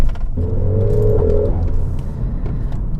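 A Mercedes CLA 45 AMG engine hums and rumbles while the car drives gently, with a brief rising whine partway through over steady road noise.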